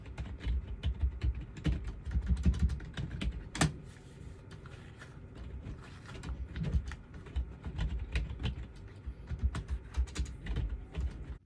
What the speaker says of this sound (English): maybe just a bit typing on a keyboard wearing these as well